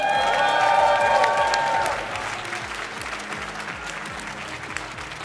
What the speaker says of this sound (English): give a huge applause to all the side coders in the scene